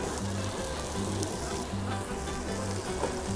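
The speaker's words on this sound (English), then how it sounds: "Take your bread, butter down into the pan." Buttered bread sizzling in a hot pan for a lamb shoulder sandwich, a steady close crackle with low harmonic hum bands underneath and no talk.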